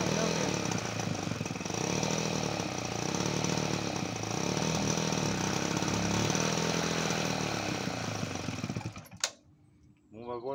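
A Peugeot 103 moped engine runs steadily right after its first start, a loud buzzing two-stroke drone up close that continues for about nine seconds before cutting off abruptly, leaving near silence.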